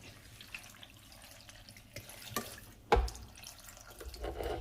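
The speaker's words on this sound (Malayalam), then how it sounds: "ഇത് ചാറുകറി ആയതുകൊണ്ട് അല്പം വെള്ളം കൂടുതൽ ഒഴിച്ചു കൊടുക്കണം" Water poured into a thin home-style curry in a pot, a faint trickling splash with a brief sharper slosh midway, quiet and without talking.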